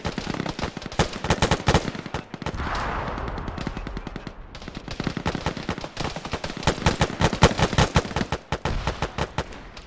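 Arma gunfire in a squad firefight, many close rapid automatic bursts and single sharp shots in uneven clusters, loud throughout with a short hissing lull in the middle.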